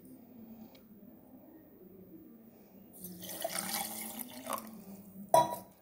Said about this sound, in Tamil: தண்ணி கொஞ்சம் விட்டுக்கலாம்.